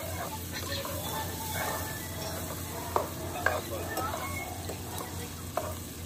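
Onions frying in a pan over a hot fire while car camping, a steady close sizzle with stirring scrapes and a few sharp clinks of utensil on metal.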